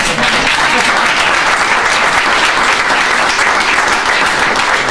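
An assembly audience at a forestry association meeting bursts into loud, dense, continuous applause, close and sustained throughout with no break.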